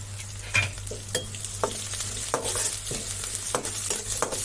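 Onion and green chili fry in a pan with a steady sizzle, broken by several sharp stirring scrapes and clinks at an even rhythm, close and moderately loud.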